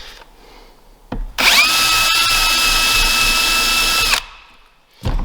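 A power drill drives a screw into a birch drawer in a single steady burst of close, high motor whine lasting about three seconds. Short clicks come before and after it.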